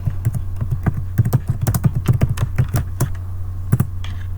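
Typing on a computer keyboard: a close, irregular clatter of keystrokes in quick bursts over a low steady hum, with no talking.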